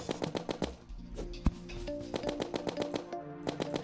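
The Minishark gun fires in rapid bursts in Terraria with the Calamity mod, a fast, even stream of sharp synthetic shots with one louder impact midway and game tones layered underneath.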